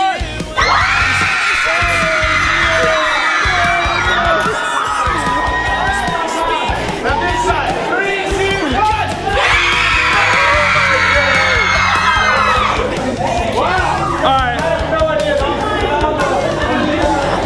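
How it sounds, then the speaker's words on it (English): A concert crowd on a music video shoot screams and cheers loudly in two big surges, one half of the audience at a time competing to be louder, with constant chatter and whoops between the bursts. "we're going to have a contest so you can get louder between these two sides. First this side scream."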